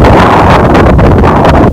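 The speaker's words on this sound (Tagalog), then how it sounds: "Sarap ng hangin." Wind gusting across an open mountain ridge, a loud, steady broadband rush buffeting the microphone throughout with no pause.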